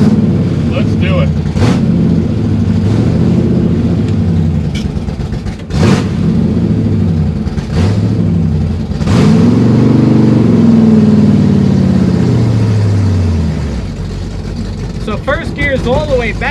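A 1962 Pontiac Tempest Super Duty 421 engine growls and revs on a drive, loud and close, with shifts and swells in pitch through the run. Voices talk briefly over it near the end.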